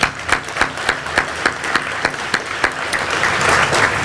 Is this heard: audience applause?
yes